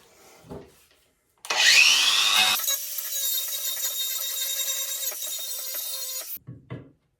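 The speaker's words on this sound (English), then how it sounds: "I'm wondering if maybe I could just grind this wood away" A handheld power tool grinding away wood on a beginner's door build spins up sharply and then holds a loud, steady, high-pitched whine with rasping abrasion for about five seconds before cutting off, with faint knocks on either side.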